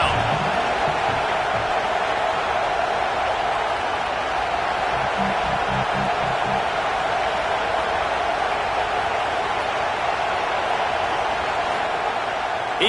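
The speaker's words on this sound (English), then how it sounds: "Decibels rising as the crowd gets behind this defense on 3rd down." Stadium crowd noise from the College Football 27 video game, a steady dense roar building on a third-down defensive stand, loud and continuous throughout with no distinct claps or breaks.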